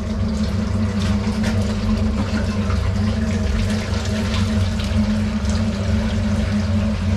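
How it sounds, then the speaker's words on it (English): Seven gallons of liquid gushing out of a loader during repair work: a loud, steady, continuous rush and splash of pouring fluid with a low rumble, close by and unbroken throughout. "7 gallons is about to come gushing out"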